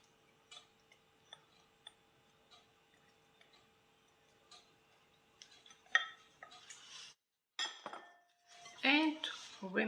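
Wet ingredients being stirred into crumbly butter and flour for buttermilk scones: scattered light clinks of a utensil against a bowl, then louder scraping, mixing bursts near the end.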